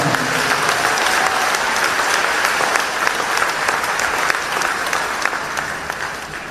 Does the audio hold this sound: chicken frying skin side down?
no